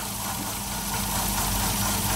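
A 2007 Toyota Yaris engine with multiple misfires runs at idle, close up, making a steady rough rumble with a faintly uneven, knocking pulse and no speech over it.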